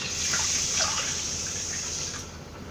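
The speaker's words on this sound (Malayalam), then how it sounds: "ഇനി ഇത് വെള്ളം ഒഴിച്ച് കുതിരാൻ വേണ്ടി വെക്കാം." Water poured from above onto washed raw rice in a bowl for soaking, a continuous bright hiss of running, splashing water lasting a couple of seconds, close and steady.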